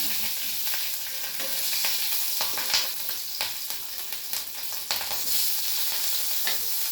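Black cumin seeds and green chilies frying in hot oil, a steady close sizzle with crackling pops and occasional stirring scrapes running throughout.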